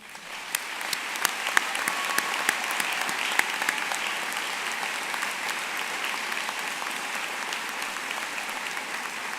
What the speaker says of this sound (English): please stand to receive one more round of applause